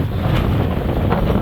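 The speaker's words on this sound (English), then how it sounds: "The wind's been going on like this for about 2 hours." Strong wind gusts outdoors during a dust-blowing windstorm, a loud close rumbling buffet across the microphone, steady and unbroken with no voices.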